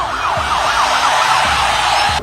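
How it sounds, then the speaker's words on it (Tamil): An ambulance siren wails loudly and continuously close by, its pitch sweeping up and down in a rapid repeating cycle during a crowded political rally held by actor-politician Vijay, with a low rumble underneath. "விஜய் அவர்கள் அந்த கூட்டத்தில் பேசிட்டு இருக்கும்போது இடையில ஆம்புலன்ஸ் வருது"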